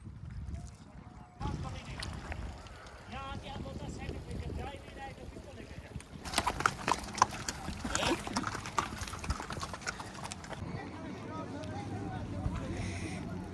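Horse hooves clop in a loose, uneven rhythm over snowy ground at Gulmarg, mixed with steady wind and microphone buffeting, while people talk nearby throughout.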